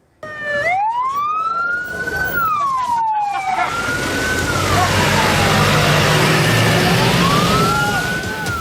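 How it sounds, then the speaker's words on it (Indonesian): A fire engine siren from a joint forest and land fire response team in Kotim, Indonesia, wails loud and close, its pitch rising and falling in long sweeps while a vehicle engine rumbles underneath. "Raungan sirine mobil pemadam kebakaran dari tim Posko Gabungan Karhutla Kabupaten Kotim hilir mudik menuju lokasi kebakaran."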